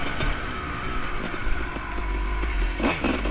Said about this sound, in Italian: caldo un attimo il motore